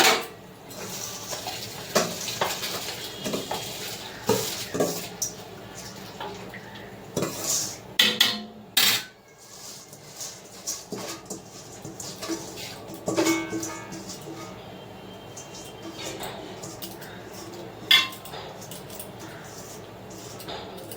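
Soaked rice is stirred gently in a pot for biryani, with intermittent metal spoon scrapes and clinks against the pot over a quiet background, uneven and fairly close.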